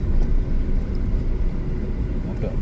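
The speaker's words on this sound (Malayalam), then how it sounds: "ബൈക്ക് കയറി വരുന്നുണ്ട് അവൻ കയറി വരുമ്പോ" A motorbike climbs a hill road through forested high-range country, a steady low engine rumble that stays loud throughout, with no clear rise or fall as it approaches.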